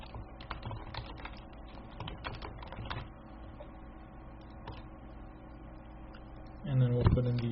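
Typing on a computer keyboard while designing a business card: quick, irregular bursts of close, crisp key clicks, densest at the start, then sparser taps before a louder sound near the end.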